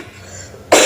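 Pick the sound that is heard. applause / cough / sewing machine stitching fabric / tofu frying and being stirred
cough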